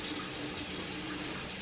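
Warm water for a small puppy's bath runs steadily from a tap into a sink, a close, constant rushing hiss with no pauses or talking.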